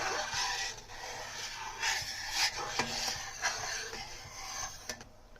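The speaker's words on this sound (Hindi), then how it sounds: "उसके बीच में हम लोग इस तरीके से चम्मच घुमाते रहेंगे जब दूध पकता रहेगा।" A spoon scrapes and rubs around a pan of thickening milk cooking on a medium flame, a steady soft rasping with occasional light clinks.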